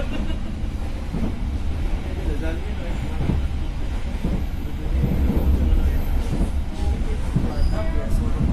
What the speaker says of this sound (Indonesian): Di pusat ini saya juga bertemu KA Serayu KA322 di stasiun Cikampek ya.